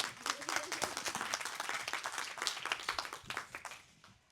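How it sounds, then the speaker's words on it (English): Audience applause at a construction industry panel event, a moderately sized crowd clapping with distinct individual claps audible, holding steady before tapering off at the end. "Let's have a round of applause."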